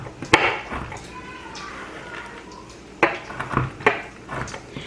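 A knife chops pecans on a cutting board in a home kitchen, giving a few sharp, close taps early and a quick flurry of rapid chops later. Faint background chatter runs underneath.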